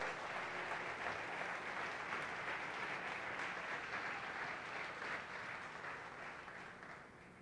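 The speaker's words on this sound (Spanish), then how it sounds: "Dense un aplauso," Applause from a church congregation at a Sunday service fills the room, a dense, steady wash of many hands that runs unbroken and loud for several seconds before easing slightly toward the end.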